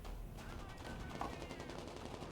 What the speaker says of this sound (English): It's these machine guns that are really wiping stuff out.